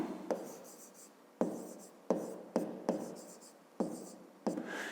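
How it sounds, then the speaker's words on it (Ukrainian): Pen strokes on paper while a geometry solution for a fifth-grade math exercise is written out: a series of sharp scratchy taps and short scrawls, close and fairly quiet, with no talk. "І ми записуємо тоді так."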